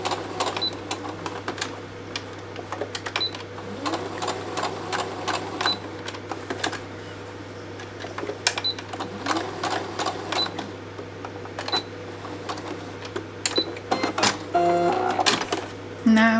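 A sewing machine stitches a small piece of brown fabric onto a hessian coaster, its steady mechanical whir running in repeated bursts with short pauses, fairly close and moderately loud over a constant low hum.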